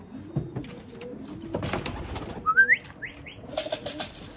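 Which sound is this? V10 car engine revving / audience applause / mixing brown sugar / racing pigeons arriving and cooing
racing pigeons arriving and cooing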